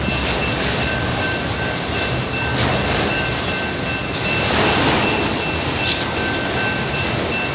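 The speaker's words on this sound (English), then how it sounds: "Two locos pulling this one. BNSF and Union Pacific." A freight car-hauler train pulled by two locomotives, BNSF and Union Pacific, rumbles past with loud continuous rolling noise, wheel clatter and faint squeal, steady throughout with no talk.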